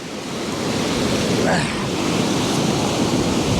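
Ocean surf washes over a rocky shore in a steady, loud rush of waves, with wind buffeting the microphone throughout and no voices.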